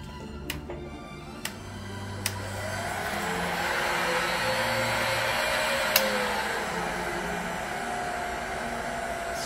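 A heat gun blows steadily on a carbon fiber bike chainstay during a DIY repair, a continuous close airy roar with a few sharp clicks and knocks over it.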